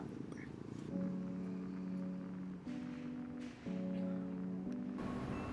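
A cat purrs close by in a steady, soft rumble with a few brief pauses.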